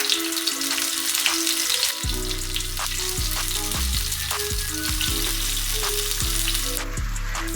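Eggplant pieces drop one by one into hot coconut oil, each bursting into a loud sizzle, building to a dense, crackling fry punctuated by brief clinks, close up and without voices.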